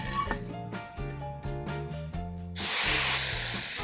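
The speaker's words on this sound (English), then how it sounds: "we're gonna do the little water drop test and see if it sizzles" Water drops hit a hot antique cast iron waffle iron over a campfire and burst into a sudden loud hiss that keeps sizzling steadily after a few soft knocks and tones.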